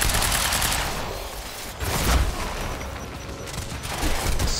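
Gunfire in the Quantum Break video game roars as a dense, loud barrage of overlapping shots and booms, swelling in waves across the whole stretch with no pauses.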